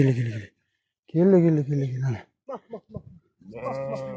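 Sheep bleat in several drawn-out, wavering calls close by, with short clicks and thumps between them.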